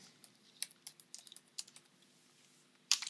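Fingers tapping out a vehicle name on a computer keyboard while configuring a Tecalemit HDM eco GPRS fuel management unit, a quick run of soft, close keystrokes followed by a brief pause and a sharper final key press.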